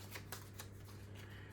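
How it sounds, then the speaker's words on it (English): A deck of game cards is shuffled during a solo tabletop session of Drop Bears, giving a few quick riffling bursts close up over a steady low hum, with no talking. "give it a nice little shuffle"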